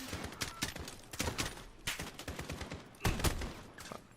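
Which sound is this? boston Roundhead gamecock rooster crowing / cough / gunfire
gunfire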